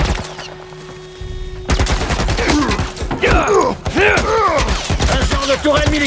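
Military turret fire in a shooter video game: loud, dense bursts of gunfire and impacts that start suddenly and keep up in rapid volleys, with sweeping whooshing effects mixed in and no clear talking.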